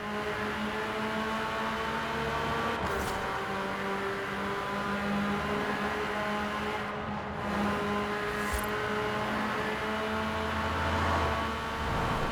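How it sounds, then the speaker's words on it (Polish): A small, light Alpine A110 engine in Forza Horizon 4 hums and revs steadily with a buzzy, synthetic tone, rising and falling slightly over a continuous drone, no talking. "Całkiem, całkiem przyjemny dźwięk jak na taki, na taki samochodzik."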